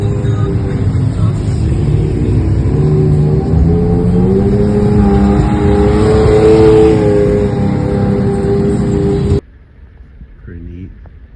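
Doom buggies roll past on a Halloween tour in Virginia City, Nevada, making a loud, steady engine drone with rising and falling tones that cuts off abruptly near the end, leaving a quieter murmur.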